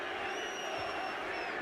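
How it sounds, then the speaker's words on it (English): Boxing crowd at the Evander Holyfield versus Nikolai Valuev fight, a continuous dense roar of arena voices calling out, steady and moderately loud, with no single voice standing out. "Crowd calling for more action."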